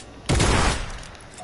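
Video game gunfire, a sudden loud burst of rapid shots that booms sharply, then trails off within about a second, with faint voices around it.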